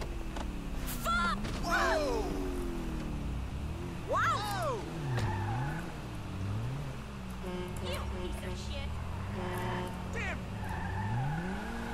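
A car in GTA V Online on PC drives with a steady engine drone, pitch swooping as it accelerates and shifts, and brief tire squeals, with someone talking over it.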